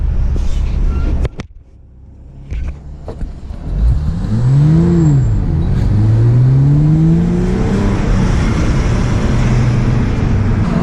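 A Corvette ZR1 convertible drives past on a street, its engine rising in a revving sweep as it approaches and then droning steadily for several seconds, loud and close.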